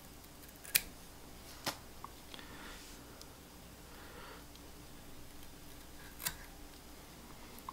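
Scissors snip at the butt ends of fly tying material, making a few sharp, isolated clicks spaced a second or more apart over a faint steady room hiss, with no voices.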